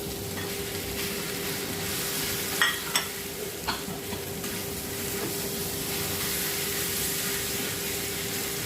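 Chicken in a hot pan gives a steady, close sizzling hiss throughout, broken by a few sharp clatters of a utensil in the pan.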